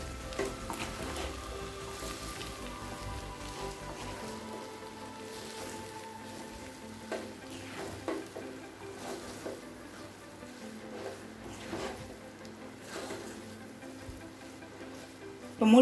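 Egg and vermicelli (semiya) being stirred together in a hot pan, a quiet continuous sizzle with light scraping and occasional soft spoon knocks, close and low.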